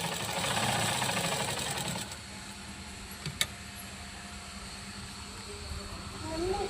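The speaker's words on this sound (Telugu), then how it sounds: "దీన్ని క్లోజ్ చేసుకొని ఒక స్టిచ్ చేసుకోండి" An electric sewing machine stitching a dress runs with a steady rapid whirring chatter for about two seconds, then stops, leaving faint room noise and a single sharp click.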